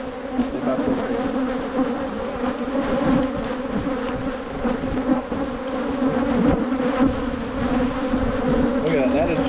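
Honey bees swarm out of an opened hive box during early spring colony management, a dense, loud, continuous buzzing hum that fills the air close by.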